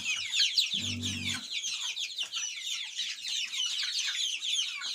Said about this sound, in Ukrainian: кури люблять гребтися